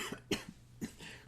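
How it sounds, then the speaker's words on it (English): Two quick, quiet coughs from a single nearby person, with a soft throat-clearing catch after each, in an otherwise hushed room. "Coughing."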